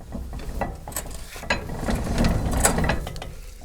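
Mechanism of a WIRAX potato digger turns steadily, producing continuous mechanical rattling and ratcheting clicks with occasional sharper metallic ticks, close and moderately loud.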